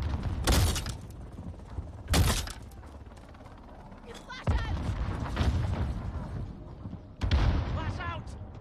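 A bomb exploding in the Call of Duty Modern Warfare beta, team deathmatch, heard as several sharp broadband blasts a couple of seconds apart amid game noise, with a voice talking between them.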